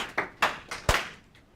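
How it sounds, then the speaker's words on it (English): A handful of separate, fairly faint hand claps in an irregular rhythm, fading out within under two seconds, as a small audience at a student security club meeting applauds. "give it a round of applause"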